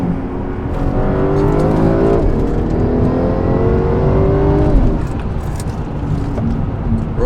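A BMW M5 with its exhaust tuned to mimic a straight-piped Rolls Royce V12, valves closed, downshifting: a loud, smooth engine drone steps through rising rev blips between gears, close and continuous.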